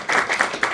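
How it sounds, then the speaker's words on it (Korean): A church congregation claps during a Christmas Sunday service to welcome the accompanist, a brief burst of applause filling the sanctuary at close range. "우리 박수로 한번 환영해 주시기 바랍니다."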